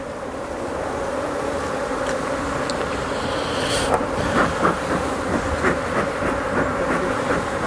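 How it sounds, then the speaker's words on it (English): Agitated honeybees buzz densely around an open top-bar or Langstroth hive, a steady close drone with scattered individual bees zipping past and occasional faint clicks, without speech. "As you see, they get very agitated. Once you start killing bees, the other bees don't like it."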